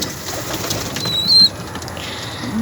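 Pigeons kept as breeders flap their wings around feeding, with a short burst of wingbeats and a brief high chirp in the middle over quiet background rustle.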